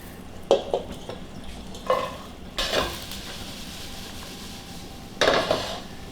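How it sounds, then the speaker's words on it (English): Vegetables being sautéed in rendered beef fat for a shepherd's pie: a low steady sizzle broken by several sharp scraping stirs of a utensil against the pan, close and fairly quiet. "I'm going to use that fat, let it heat up a bit, and I'm going to saute my veg"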